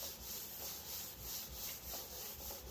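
A Scotch-Brite pad scrubbed back and forth across a painted surface, giving quiet, rhythmic rubbing strokes at a steady pace of roughly two per second, close and alone.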